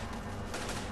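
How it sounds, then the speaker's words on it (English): Gunfire from the Arma 2 video game, a dense continuous burst of shots that stays loud and close for the whole second, with no talk over it. "What's that gunfire?"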